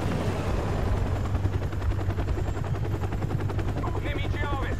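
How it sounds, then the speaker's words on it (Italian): Military helicopters approaching in Call of Duty: Modern Warfare, a continuous thudding rotor drone beneath scattered gunfire, with a voice speaking over the battle noise. "Attenti, elicotteri in avvicinamento."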